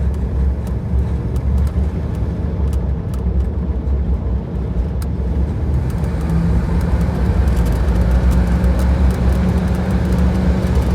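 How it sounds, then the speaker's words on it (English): A 1961 Buick with a newly installed Edelbrock carburetor runs steadily, a loud, continuous low engine rumble that stays even throughout with no voices. "What a great running car."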